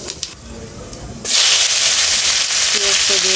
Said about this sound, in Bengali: জিরা ফোড়ন দিয়ে দিলাম